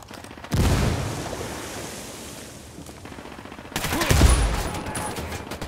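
Gunfire in Ghost Recon Wildlands: a heavy burst of automatic shots erupts, fades into a rumbling tail, then a second loud volley of rapid shots with booming impacts follows.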